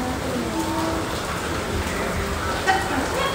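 Heavy rain pours steadily in a dense, continuous wash of noise outdoors near a bus, staying loud throughout with faint voices in the background.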